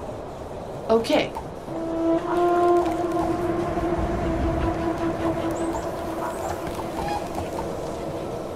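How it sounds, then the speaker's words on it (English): A train pulls into a station in the strategy game They Are Billions, giving a sustained tonal whistle or horn over rumbling ambience, with a voice speaking briefly near the start. "The train has arrived at the station."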